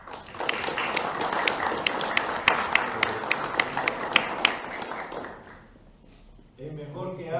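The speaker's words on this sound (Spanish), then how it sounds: "pido para él un aplauso de recepción" Steady applause from a conference audience, many hands clapping with a few sharp claps standing out, fading out near the end before a voice begins.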